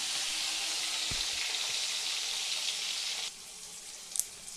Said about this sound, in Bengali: এবার আমি বেগুন একটু লাল লাল করে ভেজে নেব